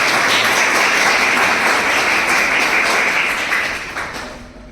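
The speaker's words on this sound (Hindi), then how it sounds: "मैं चाहूँगा कि आप लोग सब अपने लिए और अध्यापकगण के लिए एक बार जोरदार तालियां" Loud, dense clapping from an audience of trainees and teachers at a youth employment training event, sustained and close before tapering off near the end.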